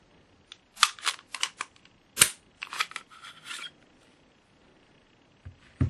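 A Springfield Armory XD9 pistol being disassembled, with sharp metallic clicks and clacks of parts sliding and locking, a cluster of close mechanical snaps followed by a pause and a couple of final knocks.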